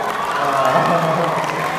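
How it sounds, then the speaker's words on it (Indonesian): Applause and cheering from a crowd of children and adults for the class teacher at a Ramadan welcoming event, a brief lively mix of clapping and shouts. "Kasih tepuk tangan buat wali kelasnya juga."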